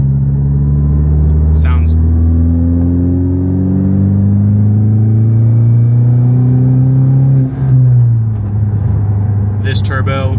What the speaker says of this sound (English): sorry it's a little droney, but it's what it is with basically a straight piped exhaust besides a resonator.